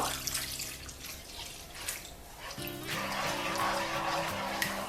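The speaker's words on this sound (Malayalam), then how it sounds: "ഇനി ഇതിലോട്ട് നമുക്ക് പാല് ചേർക്കാം. 1 കപ്പ് പാല് ചേർക്കുക." Milk poured from a cup into grated coconut frying in ghee, a steady close liquid splash and trickle that grows fuller midway, with faint kitchen clatter.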